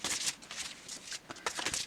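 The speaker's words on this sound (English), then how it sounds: "I'll just shuffle one out." A deck of tarot cards is shuffled close up in quick, papery riffling bursts that repeat for a couple of seconds, with no voices.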